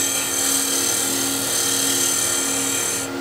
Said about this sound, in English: I'll use a low peel cut just to lightly finesse this part here